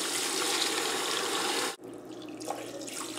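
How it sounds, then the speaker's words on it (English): Tap water gushes steadily into a stockpot over veal bones, a close, hissing pour that cuts off abruptly midway, then resumes more faintly with a gentle trickle. "Cover those bones with some water."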